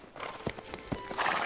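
Horses walk in a Horseland cartoon: several close, clear clip-clop hoof strikes spaced unevenly over a second and a half, ending as a brighter noise swells.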